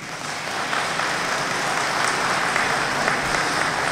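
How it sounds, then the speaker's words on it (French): Sustained applause from an audience at an evening event held by a Lao human rights movement, a steady dense wash of clapping at even loudness throughout with no voices over it. "je voudrais d'abord vous demander de l'applaudir pour la remercier"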